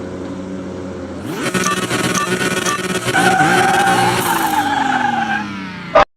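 Drag-racing cars in Car Mechanic Simulator 2021, a loud engine roaring up through the gears with tire squeal and rising whine, steady and close, cutting off abruptly at the end.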